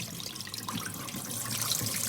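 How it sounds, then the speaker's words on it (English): Water trickles and splashes steadily out of freshly washed cabbage as it drains, making a continuous close wet hiss with no one speaking. "we're just going to drain the water out"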